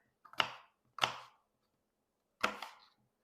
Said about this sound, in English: we're going to take my 2 apples and we're going to cut them into bite-sized pieces